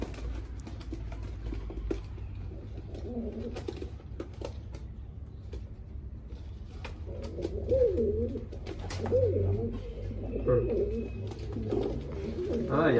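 Pigeons held for blood sampling coo in soft, repeated throaty phrases, growing louder toward the end over a low rumbling background with scattered clicks and taps.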